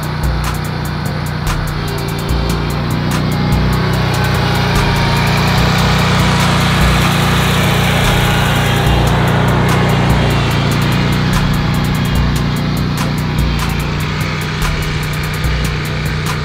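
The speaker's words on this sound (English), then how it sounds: "Hit mow, it'll take off mowing." Wright robot lawn mower running, a steady, loud engine drone with a rapid ticking rattle that holds constant throughout, close by and without talk.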